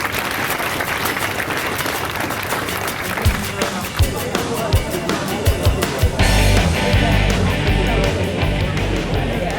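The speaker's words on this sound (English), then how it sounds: "Big round of applause for Robin." Sustained audience applause at a fitness challenge winner presentation honoring an executive, with a dense wash of clapping, some cheering and louder sharp hand claps and thumps in the second half.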